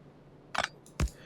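Two quick, crisp clicks sound close together, separated by a short gap, as items are removed in the Factorio editor, with nothing else audible but faint background hiss.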